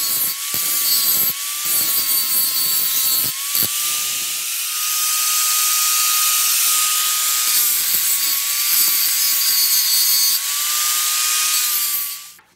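An angle grinder flattens a metal piece for a DIY garden tool, a loud, sustained high whine with rough grinding texture, briefly interrupted early on, then running steadily for about twelve seconds.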